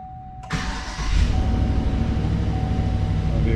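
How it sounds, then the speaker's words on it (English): A vehicle engine started by a remote starter during a starter installation cranks and catches after a short quiet moment, then settles into a steady, fairly loud idle that continues to the end. "The vehicle will start."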